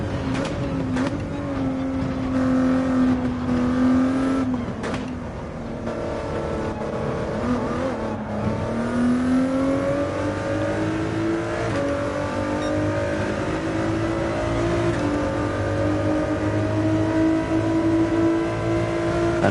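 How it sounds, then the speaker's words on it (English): Race car engines in a racing video game drone and rev continuously, pitch climbing and dipping as the car accelerates and shifts, loud and close with no talk. "And Hoggy's the car in front for 5th place"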